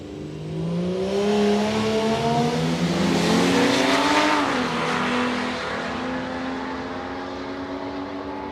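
A small Ford Cortina drag car makes a loud run at Palmyra Raceway in Australia. The engine revs climb hard through a roaring acceleration, then ease off into a steadier, slightly fading drone.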